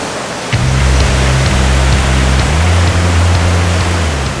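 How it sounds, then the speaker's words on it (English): Loud, close roar of rushing river water below La Catedral Waterfall in Costa Rica, constant and dense, with a low droning hum running underneath. "I can hear that water"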